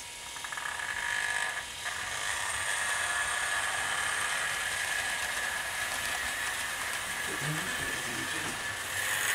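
A model Fowler class 4P steam locomotive runs continuously, a steady high mechanical whine and hiss with a faint background rumble, holding at an even level for about nine seconds with no speech.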